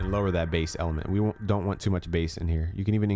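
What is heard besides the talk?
No everyday noise stands out behind the speech.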